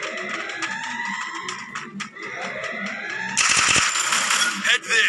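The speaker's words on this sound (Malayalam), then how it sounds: "നമ്മൾ എല്ലായിടത്തും വെടി വയ്ക്കുന്നുണ്ട്." Rapid automatic gunfire in a ranked solo clash-squad shooter match, bursts of sharp shots with a loud crackling run near the end, mixed with game effects and someone speaking over it.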